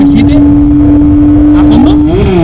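A rally car drives off at a rally legends event, its engine loud and close in a steady high drone that climbs in pitch as it pulls away, with a person talking over it.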